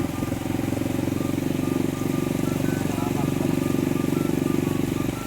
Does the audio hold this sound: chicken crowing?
no